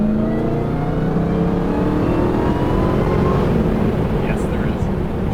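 A 2022 Dodge Charger SRT Hellcat Jailbreak engine revs hard during a launch, a loud, continuous roar with rising harmonic tones that holds steady for the whole stretch.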